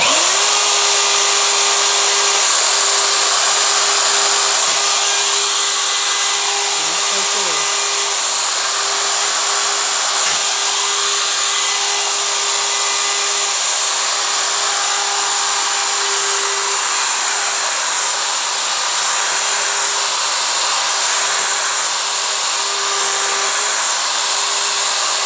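A router cuts mortises in wood on a PantoRoute jig, a loud, continuous high whine held steady for the whole stretch, with slight dips in pitch as the bit bites into the wood and no talking.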